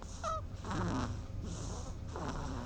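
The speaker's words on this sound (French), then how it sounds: "Une souris qui ronfle" A recording of a mouse snoring gives soft, wheezy, rhythmic snores, several in quick succession, faint and close, with no talking.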